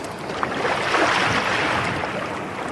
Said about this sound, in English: maybe crashing ocean waves is your jam